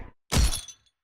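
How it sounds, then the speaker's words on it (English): A Fortnite pickaxe swing with a chain attachment: a single loud whooshing, crashing strike with a brief rattling tail, alone and up close. "You can hear the chain swinging in the background, kind of like the drift."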